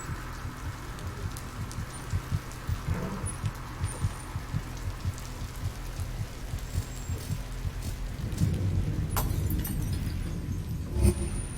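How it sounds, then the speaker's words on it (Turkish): A steady, muffled heartbeat thumps from the horror video game Among the Sleep, beating in a regular rhythm over a low droning hum, with no voices. "Oğlum bak şu şey kalp atışını da yapma ama ya."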